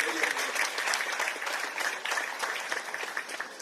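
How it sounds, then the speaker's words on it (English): Audience at a solar power plant launch for government hospitals applauds and cheers, a continuous wash of clapping at moderate loudness. "I think Dr. Kapua deserves another round of applause."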